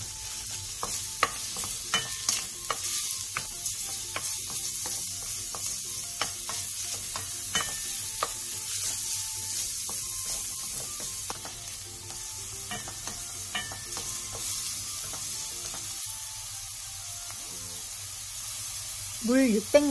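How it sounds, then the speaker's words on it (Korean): Beef and minced garlic stir-frying in perilla oil in a pot over medium-low heat, a continuous sizzle with frequent scraping and tapping of a utensil against the pot, and a voice briefly near the end. "냄비에 들기름 2스푼과 소고기, 다진 마늘 반스푼을 넣고 소고기의 핏기가 가실 때까지"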